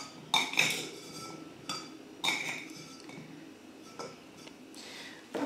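Cubes of cheese are dropped into glass jars for marinating in olive oil, making a few sharp clinks and knocks at close range, spaced out with quiet pauses between them.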